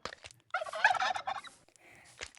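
Chickens on a farm in Minecraft let out a short burst of close, warbling fowl calls, followed by a few fainter clicks and chirps against silence.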